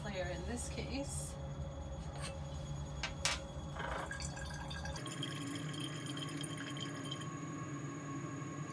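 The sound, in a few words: liquid draining from a separatory funnel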